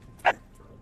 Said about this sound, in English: Also, get that dog out of here.